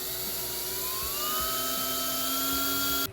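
A power drill whines steadily at high pitch while boring into the body of a Lamborghini, its tone rising slightly as it bites, loud and close for about three seconds before cutting off.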